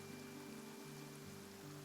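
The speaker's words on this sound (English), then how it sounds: "perhaps today's rain arrived thanks to you" In a video game cutscene, rain hisses faintly and steadily beneath soft, sustained musical tones, quiet throughout with no voices.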